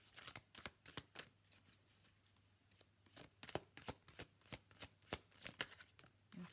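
Tarot cards are shuffled for a reading in a quiet room, a string of soft crisp riffles and flicks that start sparse and grow faster and more regular, close and fairly faint.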